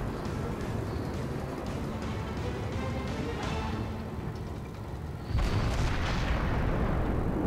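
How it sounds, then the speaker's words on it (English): Naval gunfire in a warship video game, with incoming shells arriving as a rumbling low barrage under a steady engine-like drone, followed by a sudden louder boom-like impact near the end. "Ooh, incoming shots."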